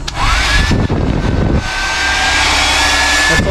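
A hair dryer roars steadily at close range, a loud continuous whooshing hum with a high whine, briefly dipping midway before running on at full power.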